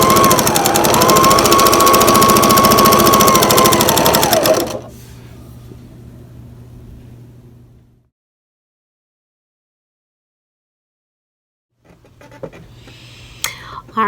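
A sewing machine pieces quilt blocks together, running loudly and steadily with a whining motor for several seconds before winding down into silence, and a voice briefly follows near the end.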